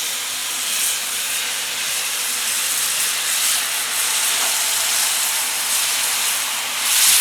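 Oysters char-grill in butter sauce on a covered grill, giving off a loud, continuous hissing sizzle that holds steady throughout and swells slightly at the end.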